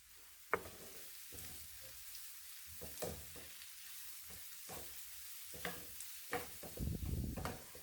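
Noodles being stirred in a pan with black pepper and powdered instant-noodle spices, giving soft scraping stirs and light sizzling that swell into a louder frying hiss near the end, with no talk.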